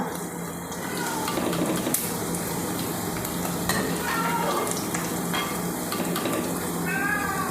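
Shrimp fry crisp in sesame oil in a pan with a steady close sizzle and crackle, broken by a few stirring scrapes and faint squeaky sounds.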